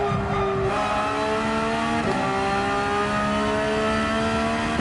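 A Porsche 911 racing around Yas Marina Circuit in a driving game, its engine screaming loud and close with rising pitch and two sharp gear shifts.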